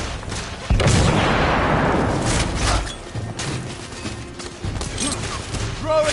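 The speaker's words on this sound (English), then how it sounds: "Grenade!" A grenade blowing up in The Order: 1886, a heavy booming blast with a long rumbling tail, followed by scattered gunfire and smaller thuds of combat, loud and close.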